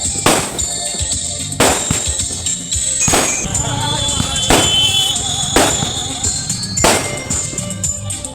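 Fireworks go off at a wedding celebration at a decorated lodge, a series of about six loud, sharp bangs spaced roughly a second apart, each followed by crackling, over a busy outdoor background.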